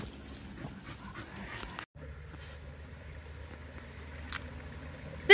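An old, out-of-shape senior dog on a walk on state park land pants and whimpers faintly against outdoor background noise, with a brief dropout partway through.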